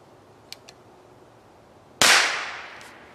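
A single sharp, loud crack of a Chiappa Little Badger .22 rifle firing outdoors, with a long decaying echo afterward and two faint clicks from the hammer and action just before.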